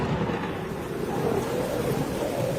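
A strong wind and rain storm at night, with a dense, steady roar of wind and rain, heavy low-end rumble and buffeting, with no talk.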